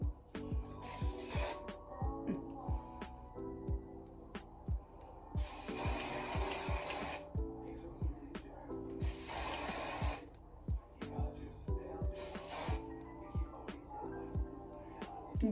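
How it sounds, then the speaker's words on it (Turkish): A hair spray can is used on styled hair, giving four bursts of loud, close hissing spray, each roughly one to two seconds long, separated by softer handling and rustling. "Hatta şuralarını şöyle spreyleyeyim."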